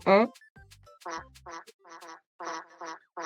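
A series of short, nasal quacking sounds in quick bursts, close and fairly quiet, likely a person imitating a duck after a brief spoken count.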